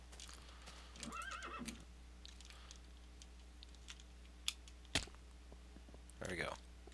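In Minecraft a horse whinnies twice, early and again near the end, with a couple of sharp clops between, all over quiet keyboard typing and low game ambience.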